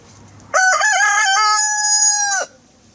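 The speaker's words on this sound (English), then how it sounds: "the rooster's crow." A single loud rooster crow, close by, lasting about two seconds with a long held final note, then quiet.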